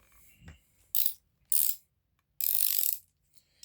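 Ratcheting, clicking mechanical bursts from tightening an APC 16.6 Sport propeller on a Magnum 120 four-stroke RC engine fitted to a 20cc 120-size Edge 540 model, three short loud bursts with pauses between, close up.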